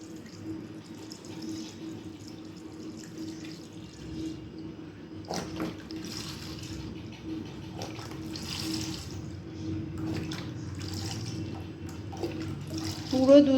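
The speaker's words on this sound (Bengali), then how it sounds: "আস্তে আস্তে দুধটাকে আমি ঢেলে দিচ্ছি" Amul Gold milk pours slowly and steadily into a pan for payesh, a soft continuous liquid splashing with someone talking quietly over it.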